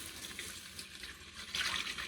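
Home-canned chicken stock pours into a cooking pot of Louisiana red beans and rice with andouille sausage: a soft, steady liquid splash that swells louder toward the end, with no talking.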